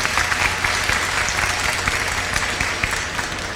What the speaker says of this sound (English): Can we give him a round of applause for a great question?